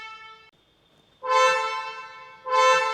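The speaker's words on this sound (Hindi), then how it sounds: "वहीं पे फर्स्ट जनरेशन वेन्यू का हॉर्न ये देखिए, ये काफ़ी पतला है" A first-generation Hyundai Venue SUV horn sounds in short bursts, a thin held tone, a brief pause, then two louder blasts close by.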